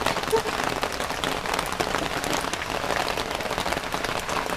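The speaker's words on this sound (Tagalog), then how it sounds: "Lumakas na ulan." Heavy rain pours steadily and densely, close by and fairly loud, at a coconut farm in the Philippines, with faint voices now and then beneath the downpour.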